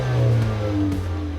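A 2017 Jaguar XE 25t Prestige, rear-drive with a 240-horsepower turbocharged four-cylinder, accelerating hard, a close, loud steady engine drone with rising tones across a brief burst.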